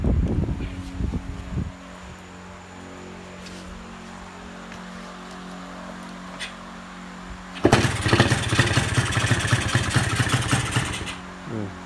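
Motorcycle engine started during a carburetor pilot jet check, with faint clatter and a long quiet stretch before a loud rough running burst near the end.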